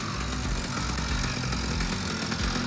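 A motorized bicycle engine runs steadily up close, its low putter blending with a loose metallic chain rattle for a few seconds, with no voices.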